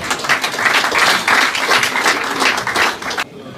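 Audience in a packed hall at an awards and poetry gathering claps with bursts of uneven hand claps that fill the room, then cut off abruptly near the end.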